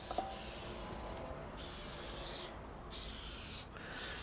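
Cooking oil sprayed into a skillet: a faint, steady hiss that rises in short, airy bursts.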